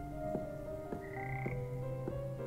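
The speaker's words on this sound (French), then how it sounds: "Il y a des grenouilles." Frogs croak in the video game Hogwarts Legacy, a repeating series of about four regular throaty croaks over a steady droning ambient background, close and clear with no talking.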